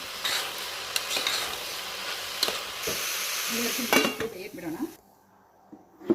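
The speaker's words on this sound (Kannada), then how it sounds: "ನೆನೆಸಿಟ್ಟ ಕಡಲೆಬೇಳೆ ಪಡವಲ್ಕಾಯಿ ಹಾಕ್ಕೊಂಡು ಚೆನ್ನಾಗಿ ಹುರ್ಕೋಬೇಕು" Snake gourd and soaked chana dal stir-fried with onions in a pan, with repeated scraping and clanking of a utensil against the pan over steady sizzling, fading to near silence toward the end.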